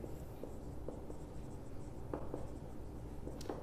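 Marker or chalk writing on a board during a chemistry lesson, heard as scattered soft scratchy strokes and taps over a steady low room hum, close and moderately quiet, with no talking.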